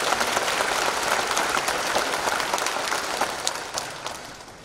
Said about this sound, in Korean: 우리 권사님 위해서 또 사모님 위해서 박수 한번 보내주십시오